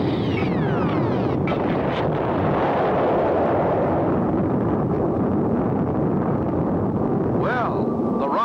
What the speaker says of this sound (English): Well, the rocket got off,